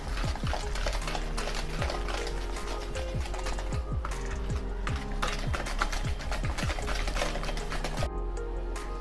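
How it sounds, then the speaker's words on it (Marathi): Powdered sugar being whisked into kesar dry fruit shrikhand, a thick strained-yogurt sweet, giving a steady run of quick rhythmic scraping and slapping strokes against the bowl, close and continuous with no talk. "आता आपल्याला हे पूर्णपणे एकजीव होईपर्यंत फेटून घ्यायचं आहे।"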